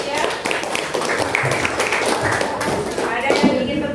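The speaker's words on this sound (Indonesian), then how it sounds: "Ya, tepuk tangan untuk kelompok 3." A classroom audience claps for a student group presenting, a brief burst of scattered hand claps and taps mixed with voices talking.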